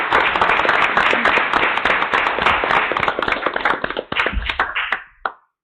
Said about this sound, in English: let's give Preston a round of applause.